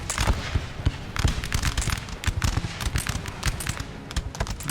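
Musket volleys in Napoleon: Total War as French troops fire into a building held by grenadiers: dense, crackling bursts of gunfire overlap continuously, sharp and loud throughout with no pauses.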